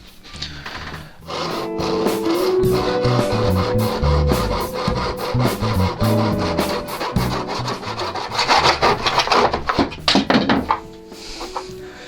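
A handsaw rasps steadily through a wooden guitar neck blank, trimming the headstock end with repeated back-and-forth strokes, close and loud, with a few thunks and no talking.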